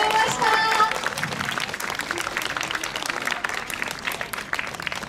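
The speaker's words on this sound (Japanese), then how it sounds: "上総組の皆様に今一度大きな拍手をお願いいたします。" A crowd claps steadily after a yosakoi dance team's performance at a festival, sustained and fairly loud throughout with a few brief cheers at the start.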